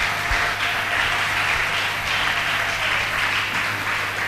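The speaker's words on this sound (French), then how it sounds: "Acclamons très très fort cette parole." A church congregation claps and applauds loudly at a service, a dense steady wash of many hands lasting throughout without a break.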